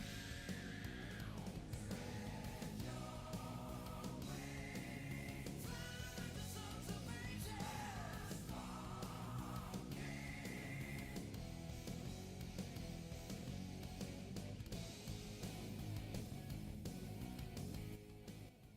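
Intro music from Daytona USA Championship Circuit Edition on the Sega Saturn plays loud and continuous, a busy synth-and-band racing theme with shifting melodic phrases running the whole time.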